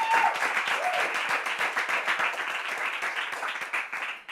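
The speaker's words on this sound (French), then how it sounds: "On peut applaudir." Hand clapping from an audience at a Bible quiz final greets a contestant's score, a steady burst of close applause lasting a few seconds before trailing off.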